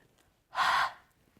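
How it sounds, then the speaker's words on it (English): A single quick, close breath is blown onto a rubber craft stamp to reactivate the ink, a short soft whoosh in an otherwise quiet room. "in your breath to reactivate that ink. So just give it a quick breathe."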